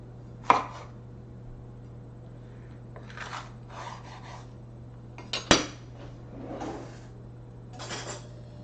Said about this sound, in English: I'll start dicing everything up, doing all that fun stuff. I'm going to start with a jalapeno.